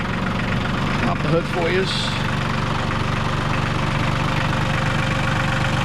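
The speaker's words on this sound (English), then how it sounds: "First things first, start the tractor." A New Holland TC30 tractor's small 3-cylinder diesel engine idles with a steady, close, rumbling chug throughout, while someone talks briefly over it.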